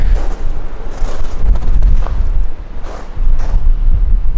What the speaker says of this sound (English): Snowy, cold, windy.